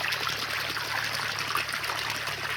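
Water gushes from a borewell in a steady, unbroken trickling rush, close and fairly loud, with no voices over it.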